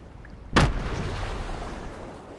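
A grenade blast in a shooter game's team rumble match, a single sharp loud boom with a rumbling tail that fades over the following two seconds.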